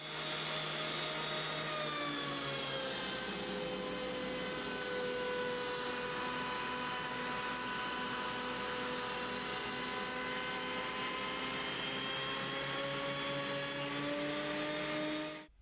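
A FindBuyTool FB131H helical planer feeds a roughly one-inch poplar board, giving a loud, steady, high-pitched whine with shifting tones that hold for the whole pass and then cut off at the end.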